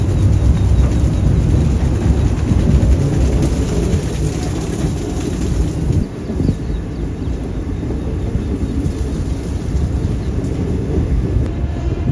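A train on a monsoon journey toward Talguppa climbs slowly around a hill in the rain, giving a loud, continuous low rumble and rattle mixed with steady rain hiss, with no voices.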